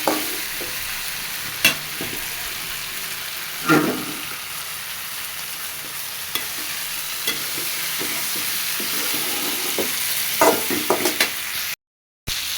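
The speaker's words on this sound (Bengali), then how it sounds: "বড়ি আর বেগুন দিয়ে দেব দিয়ে হালকা একটু নাড়াচাড়া করে" Bori lentil dumplings and brinjal stirred in a hot pan, a steady broadband sizzle with occasional scraping clicks of the spatula, close and continuous, no voices.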